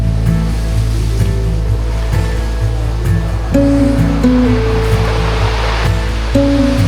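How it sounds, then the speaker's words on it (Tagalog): Heavy sea surf rushes and roars steadily at a beach cottage, a dense continuous wash of waves close by, with low tonal hum layered underneath. "medyo kinakabahan ako sa tunog ng dagat"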